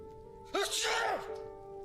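A single abrupt sneeze bursts out over a quiet background hum, loud and close, lasting under a second.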